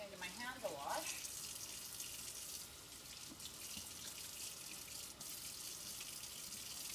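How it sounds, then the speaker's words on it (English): Tap water runs steadily into a kitchen sink as hands are washed after preparing broiled salmon, a continuous hiss with light splashing and a voice talking briefly near the start. "I'm going to give my hands a wash"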